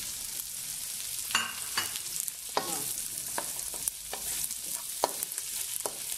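Sliced calabresa sausage and bacon sizzle steadily in a hot pan, a close bright hiss broken by scattered spatula scrapes and clinks, with no one speaking.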